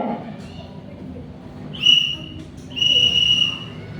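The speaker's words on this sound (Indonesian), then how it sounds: "kalau titik itu peluitnya pendek, bisa dibunyikan tuh untuk peluit pendek" A scout whistle blown in short blasts, a brief shrill peep followed by a slightly longer piercing tone, close and loud over faint room background.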